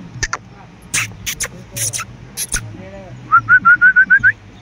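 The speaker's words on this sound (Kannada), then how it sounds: "ವಿಷಲ್ ಹೊಡೆದ್ರೆ ಸಾಕು ಓನರ್ ಬಂದರು ಅಂತ ನೋಡ್ತೇವೆ" A person whistles to call Bandur sheep on a farm, giving a quick series of about seven short, rising whistles near the end, after scattered clicks and a brief murmur of talk.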